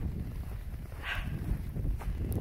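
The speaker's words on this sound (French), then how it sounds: "Voilà, il y a une rafale." A gust of wind in a snow blizzard roars steadily and broadly, with a brief rise in the middle and no voices.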